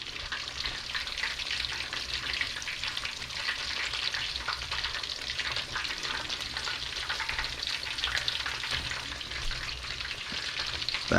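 Korean-style chicken pieces deep-frying in boiling oil make a loud, steady bubbling crackle that holds evenly for the whole stretch. It sounds close, with faint bursts of spatter and no voices.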